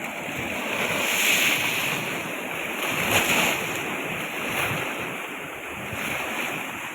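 Sea waves wash steadily onto the shore in a continuous broadband roar that swells and eases every few seconds, with wind buffeting the microphone and no voices.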